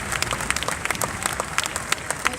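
Applause from a Catholic church congregation after a talk, a short burst of close, distinct claps with individual hands standing out over a softer crowd wash.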